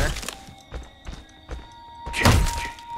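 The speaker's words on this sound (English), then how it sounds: "He destroyed my beautiful doll." Jason smashing a doll in the Friday the 13th game: a series of heavy dull thuds at a steady pace, ending in a louder crunching impact, with a faint tone underneath.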